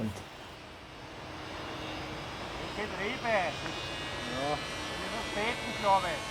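An XUAV One model plane's electric motor, an 1800 kV motor on a 4-cell battery, running at about one-third throttle in flight, a steady whine with rising and falling tones under people talking.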